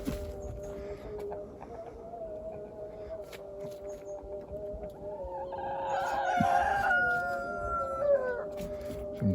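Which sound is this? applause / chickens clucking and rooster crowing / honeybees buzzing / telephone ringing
chickens clucking and rooster crowing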